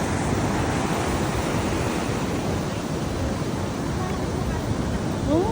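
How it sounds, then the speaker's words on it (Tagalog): Strengthening ocean waves and surf roar in a dense, continuous wash of noise buffeted by wind on the microphone, loud and close, with people talking faintly over it. "Lalong lumalakas yung alon."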